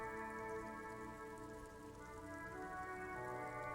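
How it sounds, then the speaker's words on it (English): Steady rainfall in the Disco Elysium video game, a dense continuous patter under a grey-sky scene, even and unbroken throughout with a faint tonal hum of music beneath it. "Rain falls down on the world."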